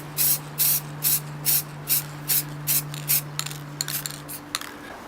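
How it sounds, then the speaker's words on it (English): Copper spray paint sprayed onto textured plastic in about nine short, evenly spaced hissing bursts, followed by lighter clicks and rattles of the can, close and clear over a steady low hum. "I'm now going to cover all of this with a copper spray"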